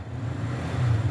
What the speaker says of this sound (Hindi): देखो रेस दी जा रही है गाड़ी को